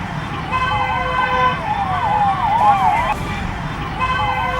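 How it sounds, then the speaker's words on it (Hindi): A wailing police siren rises and falls repeatedly over street noise, fairly close, with a brief break before the wail resumes. "पीस 2 के आखिरी हिस्से में आपको पुलिस सायरन की आवाज साफ सुनाई दे रही होगी"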